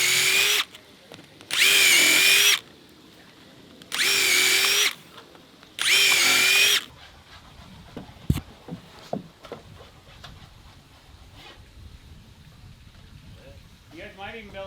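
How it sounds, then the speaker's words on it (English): A power drill bores through a stack of deck boards in four loud, separate bursts of about a second each, followed by quieter handling knocks and a voice near the end. "if I drill it right, I can get through 3 boards"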